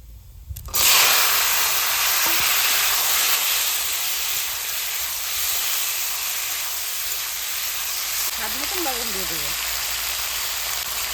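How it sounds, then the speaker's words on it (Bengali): Tomatoes hit hot oil already holding dried red chili and black mustard seeds, a loud steady sizzle and hiss that erupts suddenly and keeps going throughout. "তেলের উপর দিয়ে দিচ্ছি শুকনো লঙ্কা আর কালো সর্ষে এবার দিয়ে দেবো টমেটো"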